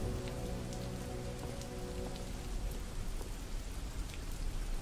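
Steady rain patters on surfaces in a Halo Reach machinima scene, a dense, even hiss with scattered droplet ticks. It carries on unbroken, with no voices over it.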